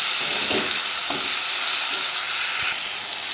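Whole spices such as cinnamon and cloves frying in oil for chicken curry, a close steady sizzle with a few light stirring clinks, no voices.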